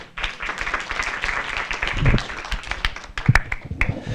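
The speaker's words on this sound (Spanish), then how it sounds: "Lo recibimos nuevamente con un cálido aplauso." Audience at a book presentation in a senate venue applauding to welcome a speaker, a moderate scattering of claps with a few louder, closer hand claps standing out.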